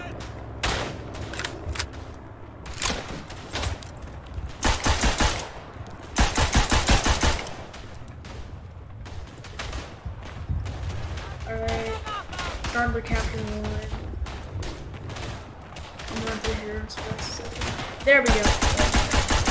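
Gunfire in the World War I trench shooter Verdun: repeated loud bursts of rifle and machine-gun shots, some rapid and clustered, with someone talking between and over them.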